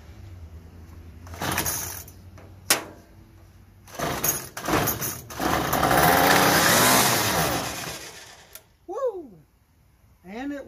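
Small two-cycle engine on a Troy-Bilt TB32EC string trimmer being pull-started after gas is squirted into the carburetor: several rough rasping pulls and a brief sputtering catch, close and loud, followed by quieter tones.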